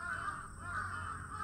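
Crow cawing, two harsh rasping caws in quick succession, close and fairly loud.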